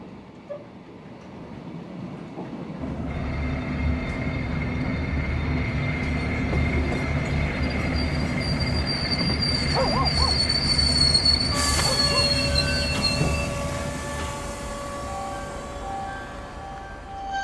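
A passenger train slowing to a halt, its wheels letting out a loud, sustained metallic squeal over a low rumbling of the carriages, the screech rising and then fading as it stops.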